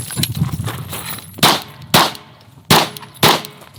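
Gunshots during a shooting training session with two targets and a reload: four sharp, loud, close reports at irregular intervals, preceded by softer handling and clattering noises.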